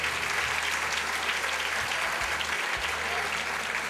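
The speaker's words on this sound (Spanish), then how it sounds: "Yo pediría un aplauso de recuerdo para ellos." Steady, dense applause from an audience at a historical football convention in Águilas, filling the whole stretch at an even level with no break.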